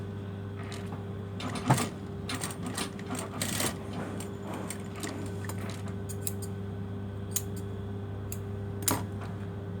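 A sewing machine runs steadily, stitching across the ends of a garment, with a continuous motor hum and rapid needle chatter plus occasional sharper clicks, close and alone.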